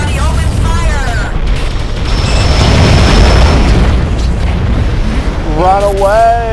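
In the game AquaNox, a fusion power plant explodes in a long, loud booming blast that swells and rumbles for several seconds, with warbling voices heard at the start and end.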